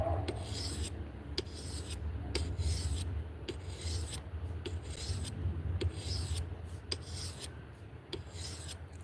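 A blade being sharpened on a 1000 grit whetstone gives steady, close rasping strokes, a continuous gritty scrape marked by short regular sharp accents, heard alone with no talking.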